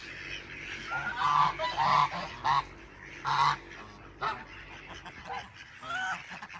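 Indian Runner ducks kept for egg laying give loud, repeated honking calls in uneven bursts, fairly close, with short pauses between the calls.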